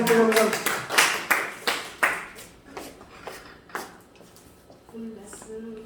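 A congregation at a Saturday afternoon prayer meeting in a mission center claps in a series of sharp bursts that fade over several seconds, mixed with voices.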